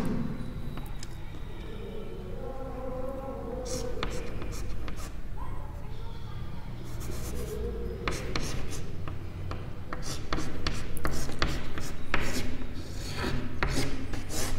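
Chalk or marker rasping and scratching across a board during an agronomy lecture, in uneven strokes and taps, with a teacher speaking throughout.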